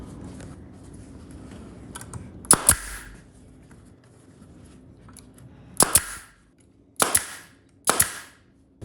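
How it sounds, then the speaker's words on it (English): A pneumatic staple gun stapling upholstery fabric over old staples, firing four sharp, loud bursts spaced several seconds apart, some as quick doubles, with quiet room noise between. "This is where having a pneumatic gun works,"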